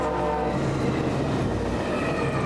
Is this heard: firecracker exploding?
no